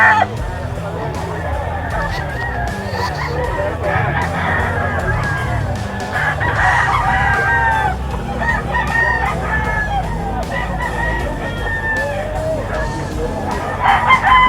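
Several Sweater and Blues gamefowl stags and roosters at a market in Bocaue, Bulacan, crowing and clucking continuously, with a voice mixed in among the birds.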